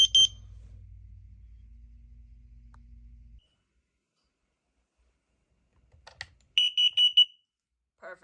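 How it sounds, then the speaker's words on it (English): Smoke alarm being tested at home, a few short, sharp, high beeps in quick succession near the end, after a low hum cuts out and a stretch of silence. "check your smoke detectors and carbon monoxide alarms"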